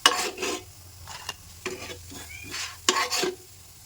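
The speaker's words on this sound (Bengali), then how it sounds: "আমার এখানে বড়াগুলো মোটামুটি দুপাশই খুব ভালোভাবে ভাজা হয়ে গেছে, তাই আমি এখন তুলে নিচ্ছি।" Red lentil fritters sizzle on an oiled griddle as a spatula scrapes underneath and lifts them off, giving short bursts of scraping and clacking between quieter frying.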